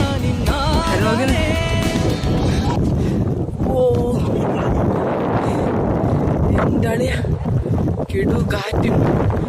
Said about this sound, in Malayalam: കിടു കാറ്റും.